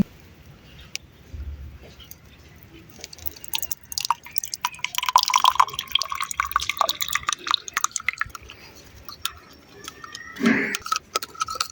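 Ink for a wooden writing board is poured into an inkwell in a village home, giving a series of close drips and small trickles with light clinks, building into a louder splash near the end.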